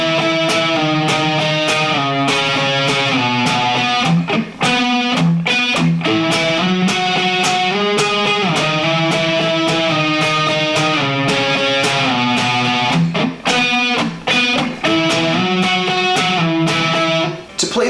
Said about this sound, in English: The song starts off with a pretty cool riff that sounds like this.